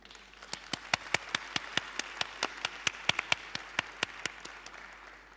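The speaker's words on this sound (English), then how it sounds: "can we have a round of applause for Aslı?" Scattered applause from a small audience at a Startup Istanbul 2016 fireside chat, sharp separate claps repeating unevenly with no talk over them.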